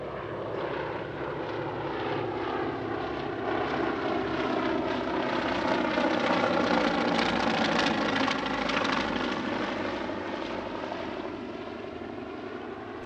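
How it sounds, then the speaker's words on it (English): A Junkers 52 vintage propeller transport, operated at La Ferté-Alais, flies past with a steady multi-engine propeller drone that swells to a peak mid-pass and then eases off, heard alone without voices. "The Junkers 52 is the largest airworthy aircraft operated by the Amical Jean-Baptiste Salis at La Ferté-Alais."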